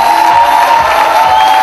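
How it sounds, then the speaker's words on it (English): Loud, steady crowd cheering and applause fill the air for graduating fashion designers of the class of 2012 at a WLC College fashion show in Mumbai, a continuous roar with no clear gaps. "Please give them a huge round of applause."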